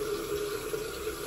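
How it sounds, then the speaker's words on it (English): Running water streams steadily from a tap as a facial cleansing brush head is rinsed beneath it, close and continuous for a moment. "I'm rinsing off my brush head."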